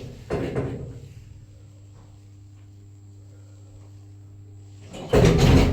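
A hydraulic passenger lift in Enfield, rated for ten persons, opens and closes its door: a loud rumbling slide at the start, a low steady motor hum in between, then another heavy door movement at the end.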